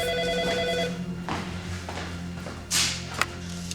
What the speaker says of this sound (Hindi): फोन उठाओ जरा।